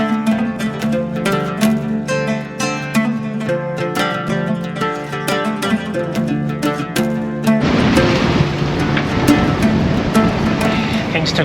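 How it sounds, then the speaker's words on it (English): Strong wind and waves around a sailboat at sea, sailing under the mainsail only: after a stretch of music, a loud, steady broadband rush of wind and surging water takes over and continues to the end. "we're hitting some serious wind and waves"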